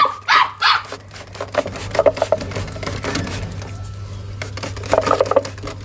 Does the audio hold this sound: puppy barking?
yes